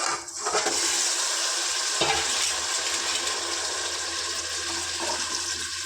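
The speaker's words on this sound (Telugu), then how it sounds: "వీటిని చక్కగా గోల్డెన్ బ్రౌన్ కలర్ వచ్చే వరకు చికెన్ని ఫ్రై చేసుకున్నాం" Country chicken pieces frying in hot oil, Telangana style, producing a loud, steady, close sizzle and hiss that barely varies, with a soft clunk near the start; no speech.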